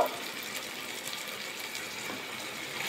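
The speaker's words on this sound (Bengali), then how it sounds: "এবার অল্প করে জল দিয়ে দেবো" Water poured into an eggplant curry cooking in a pan, a continuous soft hissing gush at close range without interruption.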